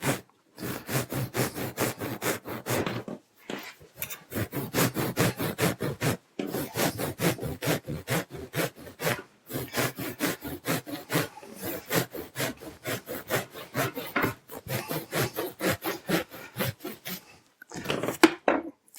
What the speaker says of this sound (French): je vais couper un peu en biais